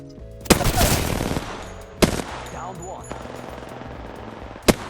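Rapid bursts of automatic gunfire from an Apex Legends weapon as a magazine is emptied, loud and close, with sharp separate shots standing out among the volleys; a faint voice now and then.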